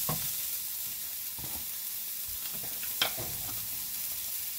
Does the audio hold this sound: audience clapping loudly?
no